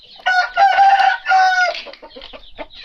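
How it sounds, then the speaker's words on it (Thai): Hens cluck and squawk loudly up close in a shared pen, a few drawn-out calls followed by quicker, choppier clucks. "ก็เลยเอามาขังรวมกับไก่ตัวเมียนะครับ"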